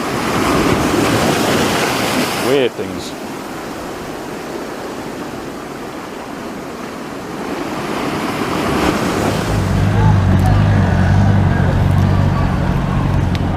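Ocean waves wash and break on the shore at Paphos, Cyprus, in a broad continuous roar with wind gusts, while a person talks briefly nearby.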